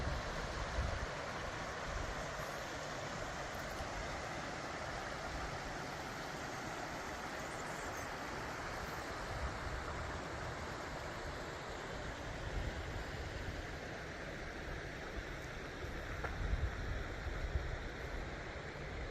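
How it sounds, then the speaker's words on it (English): Water rushes through Ice Box Canyon in Red Rock Canyon, Nevada, as a steady broadband roar with no pauses or rhythm, holding at an even level for the whole stretch. "navigating all that water that we're hearing"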